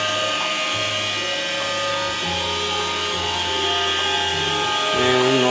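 An iRobot Roomba 550 robot vacuum running nearby, a steady high-pitched motor whine and whirr with shifting lower tones as it moves, no talk.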